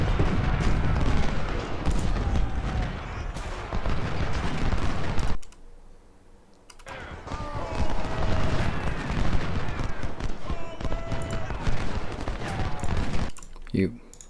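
Massed Civil War infantry musket fire in the strategy game Ultimate General: Civil War at Cold Harbor, with dense crackling volleys rolling on and off over a steady din and a brief lull midway.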